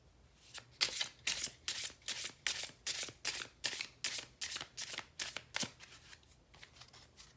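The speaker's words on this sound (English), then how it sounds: "I'll shuffle and pull 4 cards from each deck to form 4 different piles." Tarot cards are riffled and shuffled in a steady run of about fifteen crisp, papery bursts, close and fairly quiet, with no voices over them.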